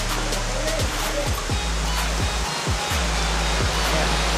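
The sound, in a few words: Solkok Falls waterfall in Vintar, Ilocos Norte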